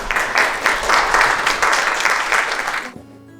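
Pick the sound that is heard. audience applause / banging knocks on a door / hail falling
audience applause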